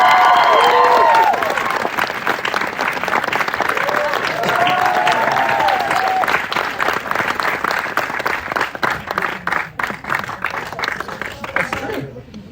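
A crowd at a Bon Jovi event applauds and cheers, with loud sustained clapping and a few whoops that fade into scattered, thinning claps toward the end.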